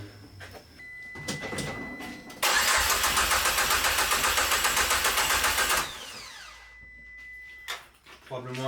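A Peugeot 205 RC engine cranks over with a loud, steady rattling churn for several seconds, then drops to a low idle as people talk nearby.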